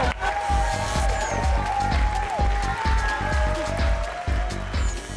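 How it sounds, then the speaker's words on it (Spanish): A studio audience claps for the show's DJ with a dense, even wash of applause. Strong rhythmic music thumps underneath throughout. "Un aplauso para ella, por favor."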